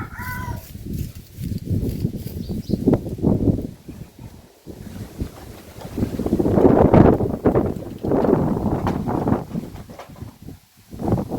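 Cold, dry wind gusts across an outdoor microphone in rough, rumbling swells that rise and fall, loud and close, with a few brief quiet gaps between bursts.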